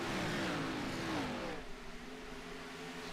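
Race cars take the green flag at Dover, a faint whining engine note sweeping upward and then fading to a lower steady drone.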